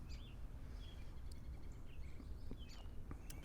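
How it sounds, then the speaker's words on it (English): Faint, scattered bird chirps from a distance over a quiet outdoor background hum, no voices. "It does my heart good hearing the birds."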